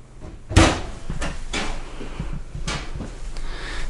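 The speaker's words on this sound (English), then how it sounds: "Not only one, but 2 drawers. And soft closed drawers at that." Soft-close oven storage drawers in a 2023 Crusader 382MBH camper close several times, with one sharp thud first and then softer knocks and slides spread over a few seconds, with no talk.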